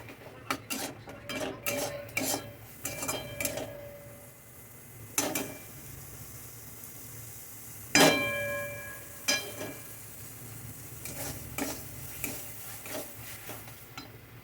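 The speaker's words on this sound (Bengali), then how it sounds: "দেখো এটা দেওয়ার পরে কিন্তু আমি কিছুক্ষণ এভাবে একটু নাড়াচাড়া করে নিচ্ছি" A cashew, poppy seed and cumin paste for a dhaba-style egg curry is stirred in a metal pan, giving sharp clinks and scrapes of a spoon against the pan, clustered at first, then sparser, over a faint low sizzle.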